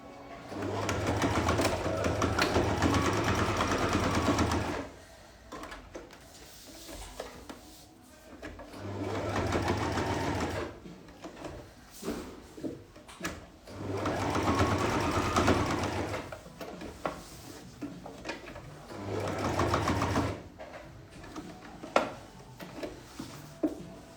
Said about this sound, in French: on va juste terminer de coudre la dernière anse